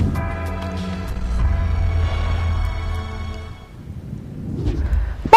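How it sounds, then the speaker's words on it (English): Heavy rain in the F1 2011 racing game at the night-time Singapore race, a dense steady wash of rainfall mixed with low engine rumble, loud and continuous for several seconds. "And here's the rain."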